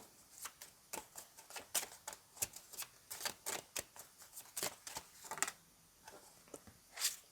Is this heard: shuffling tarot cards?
yes